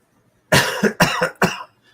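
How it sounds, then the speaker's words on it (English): A person coughs three times in quick succession, close and loud, with short gaps between the harsh bursts. "I coughed on you"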